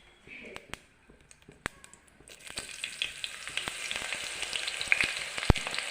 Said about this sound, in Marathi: मोहरी तडतडली की लसणाची पात टाका.